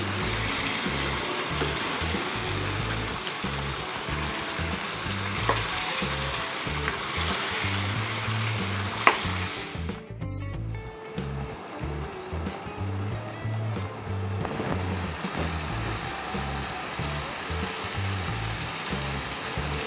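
Masala with tomato paste frying on full flame, a steady loud sizzle with rhythmic stirring scrapes, briefly interrupted by a clunk before the frying continues.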